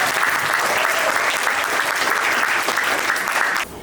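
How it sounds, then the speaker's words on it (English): Audience applause for a coach being introduced at a North Alabama Lakers media day, dense steady clapping held at full strength for several seconds before dropping off sharply at the end. "Let's give him a round of applause."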